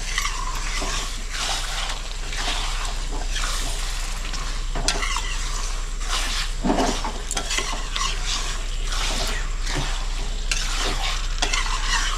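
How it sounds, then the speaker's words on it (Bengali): Chicken being stirred as it fries in a pan, giving a loud, continuous sizzle with repeated scraping and stirring strokes close up, for about twelve seconds. "চিকেনটা দিয়ে আমি ভালো করে মিক্স করে নিচ্ছি"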